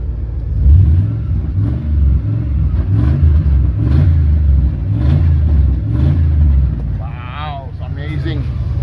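A 2001 Chevrolet Silverado 2500 with an 8.1 liter big block engine revving close by in repeated surges with a deep pulsing rumble, and a brief higher whine near the end.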